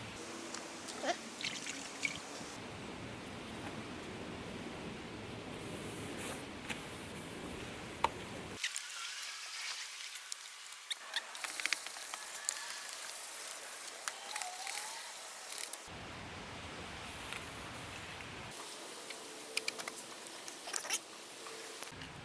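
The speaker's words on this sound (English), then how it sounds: "Alright, 1000 sandpaper. Supposed to be scrubbing this thing for 5 minutes apiece." Steady wet scrubbing and rasping as a car headlight is sanded by hand with 1000 grit sandpaper, close-up and continuous with uneven strokes and small clicks, the texture shifting between passes.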